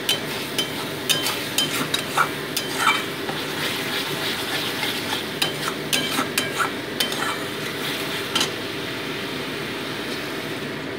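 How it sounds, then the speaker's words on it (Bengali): A spoon stirs fried spice masala into curry gravy in a pan, giving a steady wet scraping and swishing with scattered clinks against the metal, close and moderately loud, with no voices. "এবার ঝোলের সাথে মশলাটাকে ভালো করে মিশিয়ে নিচ্ছি আমি।"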